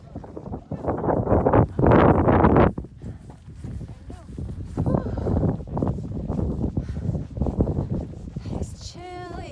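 Strong gusts buffet a mountain fire tower on the Appalachian Trail in the Smoky Mountains. Loud bursts of wind noise rise and fall over the microphone, and a hiker speaks in between.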